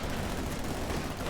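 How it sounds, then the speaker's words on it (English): M42 gun firing in a strategy video game, a dense continuous rumble of gunfire and blasts filling the short stretch with no clear gaps, loud and busy. "Just using the M42 here, hoping to get some lucky shots."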